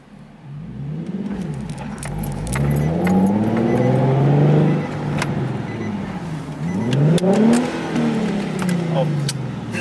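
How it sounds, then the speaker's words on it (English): A truck rolls past outdoors where a Nissan 370Z is being worked on, its engine rising and falling as it nears and fades, with a second vehicle swell later; people talk over it. "I'm gonna let this truck go by before I..."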